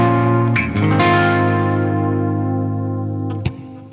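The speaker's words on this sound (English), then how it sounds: "No coil splits or anything, just a bridge humbucker sound." Electric guitar through its bridge humbucker with no coil split, on a normal guitar tuned very low to E1: a sustained distorted, chorused chord ringing and slowly fading, with a fresh pick attack near the end.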